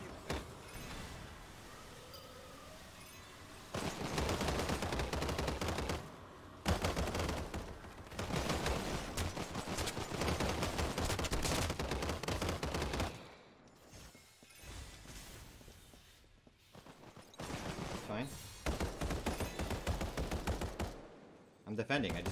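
Rapid, dense gunfire in Blitz mode of the battle royale game Final Fantasy VII: The First Soldier rattles in long sustained bursts with short pauses between, loud and close.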